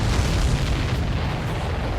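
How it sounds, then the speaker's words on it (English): Explosion in the Ace Combat 7 air combat video game, a dense, loud booming rumble that holds steady for two seconds, with no talk over it. "Did you see that explosion?"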